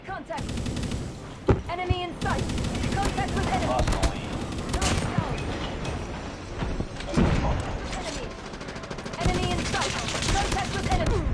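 Heavy gunfire in Call of Duty Mobile during a ranked match rattles in long automatic bursts and single shots, loud and close, almost continuous across the stretch, with talk at times under it.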